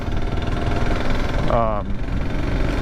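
Kawasaki KLR 650 motorcycle engine (2024 model) running steadily on a steep gravel climb, with a brief rising gear-change note in the middle of the continuous engine drone.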